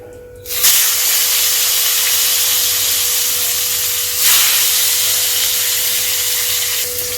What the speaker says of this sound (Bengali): তেলটা গরম হয়ে গিয়েছে এবার আমি মাছটাকে ভেজে নিচ্ছি